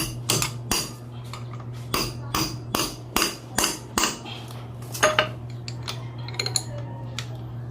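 Repeated metallic hammer strikes on a Mio Soul i 125 motorcycle ball part, sharp and close, in an uneven series over a steady low hum, with lighter clinks trailing off toward the end.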